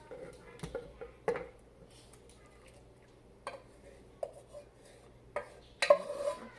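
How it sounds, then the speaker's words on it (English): Sliced potatoes are laid into a buttered baking dish for a gratin dauphinois, giving scattered soft clinks and taps against the dish in a quiet kitchen, with brief pauses between them. "I'm just going to arrange all of those potatoes evenly along the bottom of the pan"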